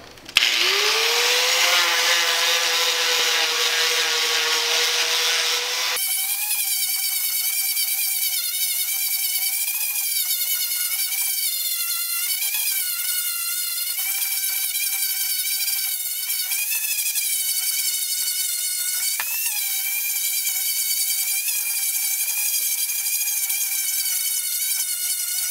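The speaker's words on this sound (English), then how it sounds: "I'm using a 36 grit sanding disc, and I'm just gonna go ahead and take all the bark off this bad boy." A 4-inch angle grinder fitted with a 36-grit sanding disc strips bark from a log, giving a loud, steady high-pitched whine that shifts pitch partway through and runs without a break, with no voices.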